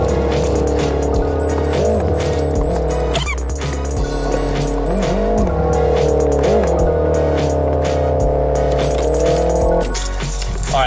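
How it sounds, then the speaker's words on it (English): A Subaru Forester XT with an automatic transmission drives up onto a trailer. The engine drones steadily and loudly, with rising and falling revs and occasional clunks and rattles. "now I'm gonna try to drive it up onto the trailer so we don't mess anything up"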